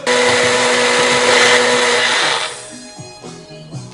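A Magic Bullet blender whirs loudly and steadily, blending avocado with sour cream into a taco sauce, then winds down and stops, followed by light handling clatter.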